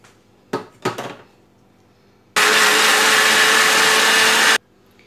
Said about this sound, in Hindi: मैं इसे अच्छा अभी एकदम बारीक ग्राइंड कर लूँगी